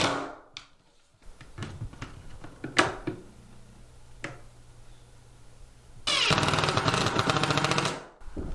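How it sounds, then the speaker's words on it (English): Power drill or driver screwing a wooden bevel hanger into a wall for geometric peacock wood wall art: short bursts and knocks, then a loud sustained whirring run near the end. "We're going to be screwing this right to the wall"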